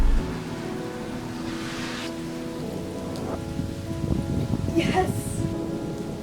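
Heavy rain from a monster derecho thunderstorm with a steady hiss of downpour and occasional low rumbling, growing slightly louder near the end, while someone briefly speaks close by.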